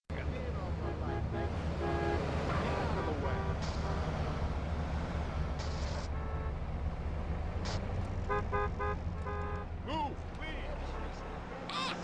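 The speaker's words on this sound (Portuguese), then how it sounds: "And this is how traffic beeps sound at normal frame rates." Traffic horn beeps in a video game running at normal frame rate: several short, bright car-horn toots scattered across a steady engine and street hum, with people talking over much of it.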